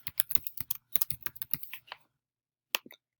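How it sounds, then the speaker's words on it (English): Rapid clicking keystrokes on a computer keyboard while typing an email address, a close, busy burst lasting about two seconds, then silence and one last short flurry of taps. "and you can type in your email."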